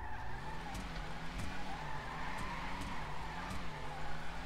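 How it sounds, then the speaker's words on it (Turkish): A revving car engine in the video game GTA 5 drones steadily while its exhaust cracks with several sharp, irregular pops. "Egzoz da patlıyor ya, güzel duruyor."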